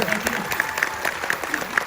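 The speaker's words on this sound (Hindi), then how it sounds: "Usually people clap after it." A seminar audience applauds steadily, with distinct claps standing out over a dense layer of clapping and some crowd noise.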